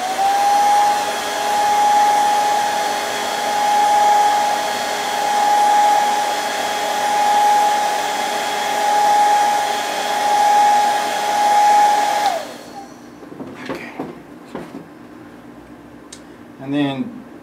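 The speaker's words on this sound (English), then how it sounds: "So let me go ahead and dry this." A hair dryer blows steadily on fresh paint on a handmade swimbait lure, a close, constant whine with a slowly pulsing level for about twelve seconds, then cuts off, leaving a few faint clicks and handling noises.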